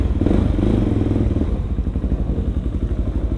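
A Suzuki DRZ 400 supermoto motorcycle idles close by, its single-cylinder engine throbbing in a steady, loud, even rhythm with a faint clatter, heavier at first and then settling into a lumpy idle.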